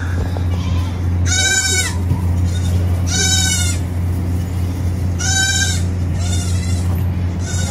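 Goats on a farm bleat loudly nearby in four separate wavering calls spaced a few seconds apart, over a steady low background hum.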